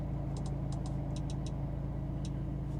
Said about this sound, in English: I can now hear the exhaust a little bit better